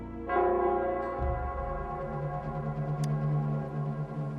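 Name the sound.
city bell of Nell Square ringing, from video game Wuthering Waves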